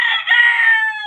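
A pet chicken on a countryside farm gives a single short, loud crow at close range, lasting about a second, with no voices present.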